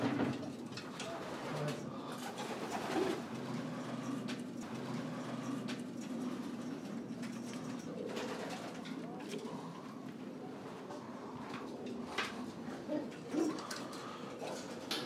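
Pigeons in a Belgian racing-pigeon loft of young breeding birds coo continuously at close range, overlapping throaty calls with occasional wing flutters and faint background voices.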